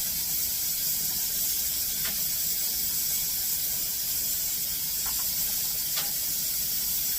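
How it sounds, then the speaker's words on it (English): Glass jars of tomatoes are set into a steam canner over a steady background hiss, with a few faint clinks and knocks standing out briefly at intervals. "so now we're loading up the steam canner."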